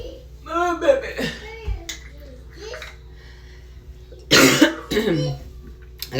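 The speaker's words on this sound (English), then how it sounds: "I got this nasty cough I'm kind of getting over." A nearby adult coughs in short harsh bursts, with a voice and brief chuckling mixed in around the coughs in a quiet home.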